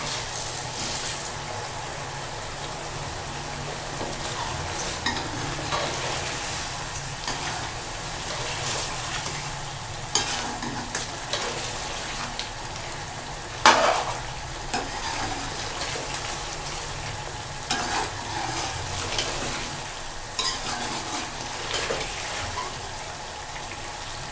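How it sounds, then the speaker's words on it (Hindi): Spices for boneless chicken handi sizzle and fry in a pan while being stirred, a steady crackling hiss with scattered utensil scrapes and clinks, close and continuous with no talking. "अब हम इसमें ये सारे मसाला जात डाल देंगे।"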